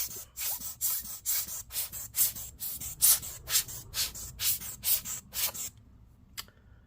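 A rapid series of short, brushing puffs of air dusting off an HP ENVY x360 laptop, about a dozen bursts in a row, fairly close, then a quiet pause with one faint final puff.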